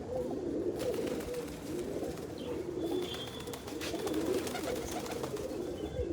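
Soft, repeated cooing of a female pigeon rolls along in low throaty phrases, with a faint chirp and steady background hiss.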